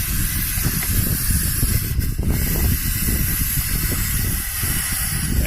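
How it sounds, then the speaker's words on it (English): Throttle body cleaner sprays in a continuous loud hiss into a car's intake opening, steady and close with a brief dip partway through. "so I always spray this up in here too"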